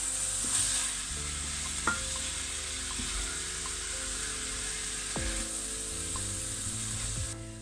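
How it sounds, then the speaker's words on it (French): Chard and other vegetables sizzle steadily in a frying pan while being stirred, with a few sharp scraping knocks of the utensil against the pan over the constant hiss. "je mélange bien pour bien imprégner toutes les saveurs"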